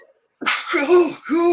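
A single sharp sneeze bursts out close and loud after a moment of silence, followed immediately by a brief spoken remark.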